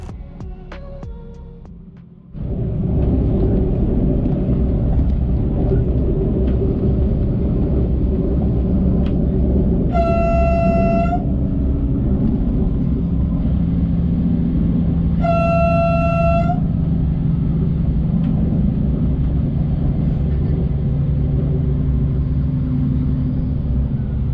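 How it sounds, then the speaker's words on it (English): A Desiro train on a small railway line between Leinefelde and Erfurt rumbles steadily while its horn sounds twice, each a sustained loud blast about five seconds apart. "As you heard the train's horn multiple times,"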